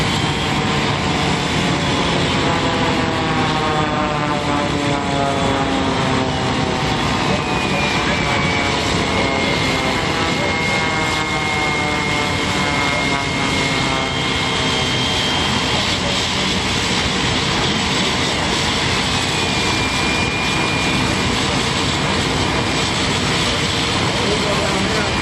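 A small propeller plane drones steadily overhead at the 2005 Nellis air show for a long stretch, its engine pitch slowly shifting as it passes, with faint talk in the background.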